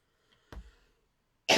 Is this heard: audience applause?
no